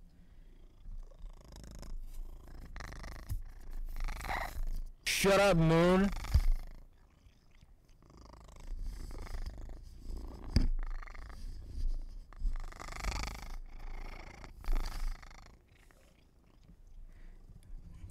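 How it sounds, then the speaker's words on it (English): A cat purrs close to a microphone in soft, low rumbling stretches while a person talks over it, with a brief loud meow-like cry and occasional bumps from the cat pawing at the mic. "I don't think you guys can hear his purring."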